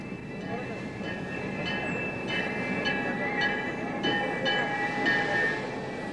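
A train in Mexico's Sierra Madre rolls along with rhythmic wheel clicks and a high metallic squeal from the rails, moderately loud and steady, slowing as it pulls into a station.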